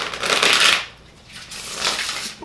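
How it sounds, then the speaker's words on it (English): Tarot cards being shuffled by hand, a papery riffling rustle in two bursts with a short lull between, fairly close and with no talking. "let's get to shuffling"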